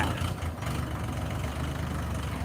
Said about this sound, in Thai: รุ่นนี้จะเป็นรถไถขนาด 42 แรงม้านะครับ เป็นเครื่องยนต์ขนาด 3 สูบเทอร์โบ